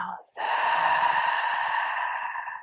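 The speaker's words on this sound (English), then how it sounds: "Take a deep breath in Exhale out the mouth" A long, steady breath exhaled through the mouth during a calm sunset yoga flow, close and fairly quiet, lasting about two seconds after a short break.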